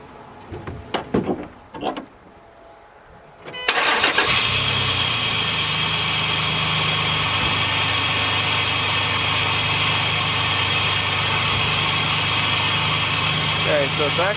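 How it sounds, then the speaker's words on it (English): A Dodge Dakota engine cranks and catches after a few seconds of faint background voices, then settles into a steady idle with a constant airy hiss from a vacuum leak running underneath. "When I fire this up, you're going to hear a hissing noise, and that is air being sucked in here"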